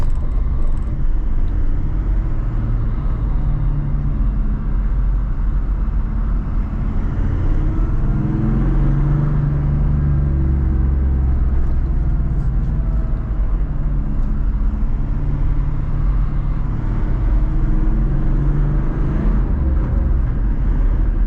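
A 4x4 crosses a rutted gravel track in the outback, still in two-wheel drive, giving a steady loud low engine rumble with tyre and gravel noise throughout and no voices.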